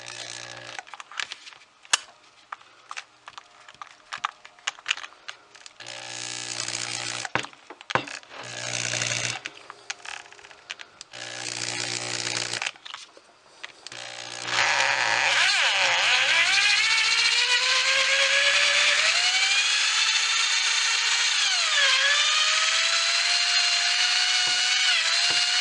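A power drill spins a stud out of a post on a Lionel KW transformer, first in short stop-start whirring bursts and then in a steady, loud, continuous whine that dips in pitch as it labours.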